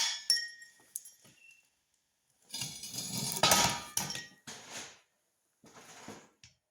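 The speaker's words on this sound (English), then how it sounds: "I was able to easily remove the epoxy with a slide hammer." A slide hammer knocks hardened epoxy off a transformer core, giving sharp metallic clinks and short, rattling impacts in irregular bursts separated by quiet gaps, close and moderately loud.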